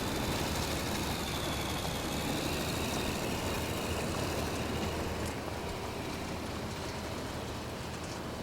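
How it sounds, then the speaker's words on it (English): A vehicle engine in the war game Combat Mission: Black Sea gives a loud, steady, rough rumble with dense broadband noise, holding fairly even throughout. "Right, gun the engine."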